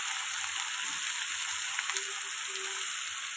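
Potatoes fry in a pan with onion, dried fish, salt and turmeric, giving a constant close sizzling hiss with a few faint clinks and thuds, no talking.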